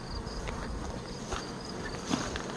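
A steady, dense buzz of honey bees hums throughout during a honey harvest, with faint rustling and a soft knock underneath.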